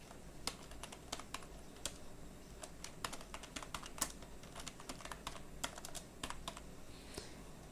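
Fingers tap a computer keyboard in quick, irregular bursts of crisp clicks, close and fairly quiet, with short gaps between runs of keystrokes and no talking.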